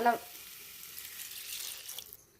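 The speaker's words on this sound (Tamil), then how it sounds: "இப்போ தேவையான அளவு தண்ணி ஊற்றி" Water poured into a pan of spicy potato curry. A soft, faint splash and trickle of water runs over the pan, with a brief clink at the start and quiet sizzling underneath.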